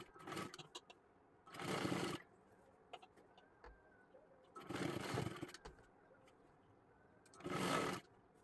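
A sewing machine stitches piping around a blouse neckline in four short bursts separated by near-silent pauses, each run quiet and close.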